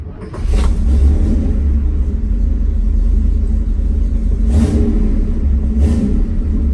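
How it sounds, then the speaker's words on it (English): A 1967 Camaro RS/SS engine turns over and catches, settling into a deep, loud, steady rumbling idle with a couple of brief bursts of noise on top. "Let's fire it up, see what happens."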